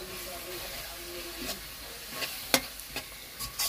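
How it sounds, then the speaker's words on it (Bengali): Ginger and garlic frying in oil while being stirred, giving a soft, steady sizzle broken by a few sharp scrapes and clinks of the spoon against the pan. "এখন আমি আদা রসুনটাকে আরও কিছুক্ষণ বেজে নেব"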